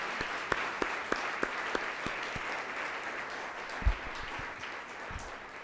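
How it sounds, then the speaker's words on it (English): A live audience at a community panel discussion on the consequences of redlining applauds the speakers, a steady wash of many hands clapping with a few sharper claps and a brief thump near the end, moderately loud in a large room. "One more round of applause for them."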